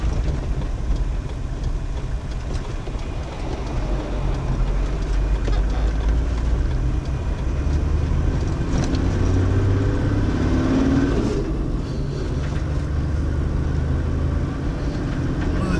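A truck rumbling along a road in Wudinna, a steady, loud engine drone that swells and fades over a long pass, with no voices.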